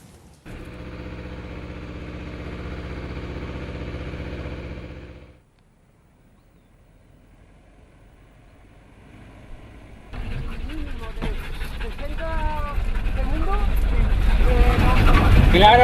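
Motor vehicle engine running steadily, then a quieter pause, then louder rising road and engine noise with people talking over it, as greyhounds are trained running behind the vehicle.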